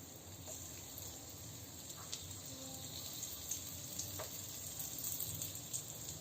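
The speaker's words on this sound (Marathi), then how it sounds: "तेल गरम झालेलं आहे. आपण आता मिरची सोडून घेऊया." Green bell peppers laid one by one into hot oil, giving a soft, steady sizzle with faint pops and crackles, fairly quiet throughout.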